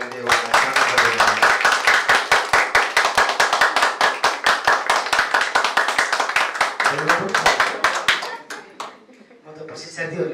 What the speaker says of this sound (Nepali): कृपया जोरदार ताली दिनुहोला।